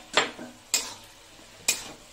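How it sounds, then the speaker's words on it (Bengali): Fried eggplant and potato stirred in a pan, three quick scraping strokes spaced apart, close and fairly loud over a quiet background, with no talking. "দিয়ে দেবো ভাজাটা, বেগুন আর আলুটা ভেজে রেখেছি।"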